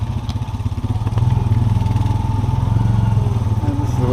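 A motorcycle rides along a gravel trail toward a fishing camp, its engine droning steadily at close range with a slight rise in loudness after the first second, with no talking.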